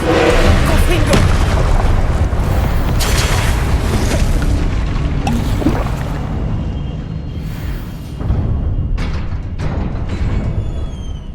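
Confringo blasting spell in the Hogwarts Legacy video game, with a loud booming explosion and a rumbling roar that slowly fades into crackling debris and game effects.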